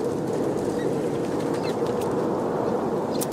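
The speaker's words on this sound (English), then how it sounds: "What's that owl doing here?" An owl hoots in the video game Syberia 3 near the town of Valsembor, a soft cooing call set in a steady, dense ambient wash that runs through the whole stretch.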